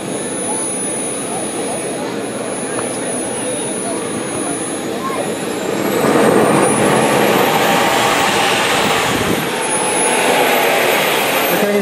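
An electric RC jet plane idles at about 33,000 RPM at a fun-fly event, a loud, steady, close whine with a thin high tone that swells and wavers, growing louder midway.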